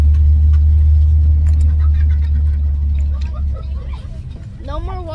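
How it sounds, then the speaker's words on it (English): Steady low engine rumble from inside a moving school bus, loud and continuous, easing slightly near the end, with voices talking over it. "we're actually on a school bus"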